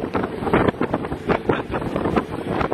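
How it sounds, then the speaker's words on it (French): Gusty wind buffets the microphone in uneven bursts on a ferry in New York over a low engine-like rumble, loud and close. "Sur un ferry, et il y a du vent."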